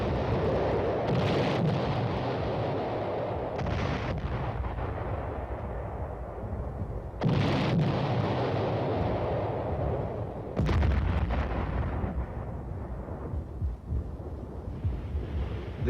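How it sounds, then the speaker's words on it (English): Regular artillery pieces firing a concentrated bombardment during a mock attack on a town, heard as heavy, distant booms and a deep, continuous rumble under gusty wind noise, with several louder blasts standing out. "Regular artillery pieces are now brought into play for this concentrated bombardment."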